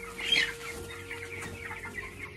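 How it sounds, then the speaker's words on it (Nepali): Broiler chicks in a coop give soft clucks and chirps, fairly close, over a steady low hum in the background. "है चल्लाहरू। के छ चल्लाहरू?"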